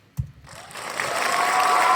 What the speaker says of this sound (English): Can we have a moment of applause?